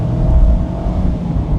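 A Mazda MX-5 Miata engine revs hard and steadily, a loud, dense droning roar that holds throughout with slight swells in pitch and no voices over it.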